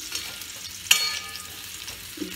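Potatoes fry in hot oil for a snakehead fish curry, giving a steady soft sizzle. A sharp metallic clink and stir stands out near the start, with a few lighter scrapes after it.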